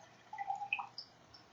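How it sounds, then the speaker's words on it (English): Water poured by hand in a quiet room, a few faint bright splashes and trickles spread over about a second, soft and close with no talk. "I'm gonna pour some water."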